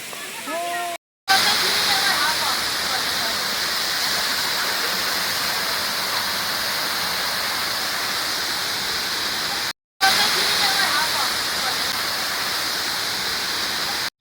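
Waterfall at Pachmarhi, a steady broadband rush of falling water that stays loud and continuous apart from two brief cuts, with faint voices near the start.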